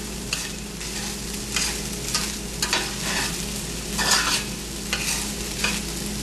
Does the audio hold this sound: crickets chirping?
no